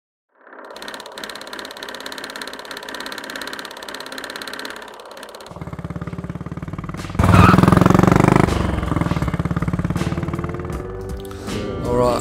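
Motorbikes ride out on the Ulysses Odyssey run to Esperance, their engines a steady close drone that swells into a louder, rougher roar partway through and stays strong to the end.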